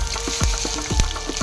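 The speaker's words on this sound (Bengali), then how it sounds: "এটাকে ভালো করে ফ্রাই করে নেব।" Chopped onion and chili fry in a pan with curry leaves for a Kerala-style curry, giving a steady close sizzle. A few soft knocks from stirring break through it.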